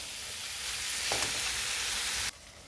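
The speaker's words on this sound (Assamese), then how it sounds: "এতিয়া মই মছলাখিনিৰ সৈতে 4 পৰা 5 মিনিট টাইম ভালকৈ ফ্ৰাই কৰি ল'ম" Chickpeas fry with ground masala paste in a pan for aloo paratha, giving off a steady close sizzle and hiss. A brief stirring scrape sounds partway through before the sizzle drops abruptly.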